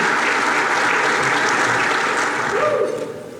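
Sustained audience applause and cheering for Governor Sanders at an aerospace and defense summit, a dense crowd clapping loudly throughout before tapering off at the end.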